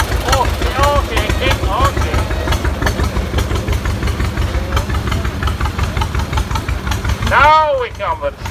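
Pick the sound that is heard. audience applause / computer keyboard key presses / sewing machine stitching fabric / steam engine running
steam engine running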